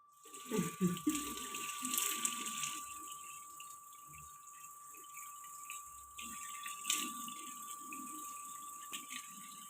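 Water runs steadily from a tap for face washing, a continuous splashing hiss at moderate level with brief clatters near the start.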